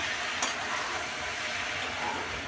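Water spinach (kalmi shak) stirred and mixed in a hot pan, a steady soft sizzle with a faint scrape near the start, close and continuous.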